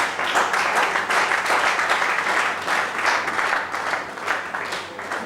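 A church audience applauds during a sermon, a dense, sustained wash of many hands clapping that stays loud throughout and fills the room.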